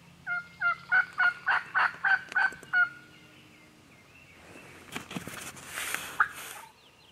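A wild turkey gobbles during a spring hunt in the Kentucky woods: a rapid run of about eight loud, rhythmic gobbling pulses, then quieter rustling and a few faint calls.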